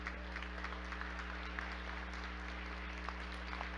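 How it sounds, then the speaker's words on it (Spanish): Audience applause at the opening ceremony of a national youth job fair and labor inclusion event, a steady wash of clapping held at moderate distance against a constant low hum, with no voices. "con el aplauso de todas y todos ustedes, Brenda Isabel Vázquez García"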